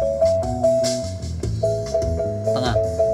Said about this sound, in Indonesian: instrumen yang ada suara kenong, suara angklung, ada simbal, ada bassnya juga